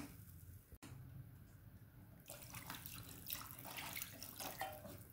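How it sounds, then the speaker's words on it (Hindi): Water pours into a yogurt curry made with singhara flour in a pan, a faint, steady splashing trickle that grows brighter after the first couple of seconds, heard alone. "इसमें मैंने लगभग 1/2 ग्लास पानी और डाल दिया है"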